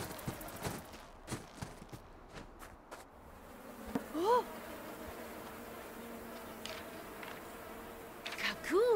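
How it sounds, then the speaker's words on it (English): Insects buzzing in the video game Kaku: Ancient Seal, a steady low drone with rising chirpy tones and scattered sharp game effects over a continuous ambient bed. "Let those bees get away."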